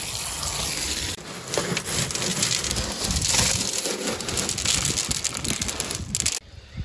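Hydroton expanded clay balls being rinsed under running water, a loud steady gush with crunchy rattling of the pellets throughout, stopping abruptly near the end.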